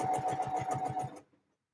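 A sewing machine runs a line of stitching in quick, steady bursts with a strong rhythmic pulse, close and loud, then stops abruptly, leaving near silence.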